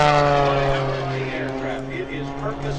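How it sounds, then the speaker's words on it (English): A custom-built Oracle Challenger 3 aerobatic propeller airplane, weighing just over 1,100 pounds with 400 horsepower, drones steadily at an airshow, its engine tone shifting slightly as an announcer talks over it. "watch closely as Sean performs a forward flip in this one-of-a-kind aircraft"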